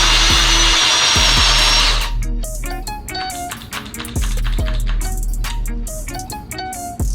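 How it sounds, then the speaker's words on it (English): A power drill whines loudly for about two seconds while drilling corner holes in a sofa table, then stops; afterward comes a jumble of clattering and knocking noises, close by, with no speech. "we're gonna grab the drill bit, we're gonna drill corners here"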